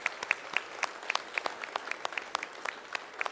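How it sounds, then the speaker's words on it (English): Small church congregation at a Sunday morning service claps for Josh, sparse, distinct handclaps in an uneven rhythm, fairly faint and somewhat distant. "let's just give Josh a round of applause"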